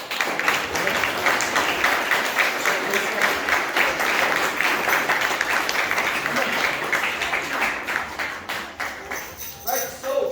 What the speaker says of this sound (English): Give Emma a big clap, please.